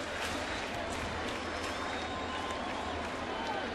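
A baseball crowd at Yankee Stadium stirring during a Mets–Yankees game in June 2012, with the Yankees threatening on the bases: a dense, steady wash of murmuring, scattered clapping and faint cheers from a large distant crowd.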